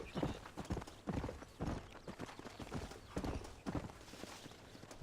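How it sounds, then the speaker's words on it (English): A horse's hooves clip-clop at a steady walking pace in the Western video game Red Dead Redemption, rhythmic and close, with a faint ambient backdrop. "Get out of my way, horse."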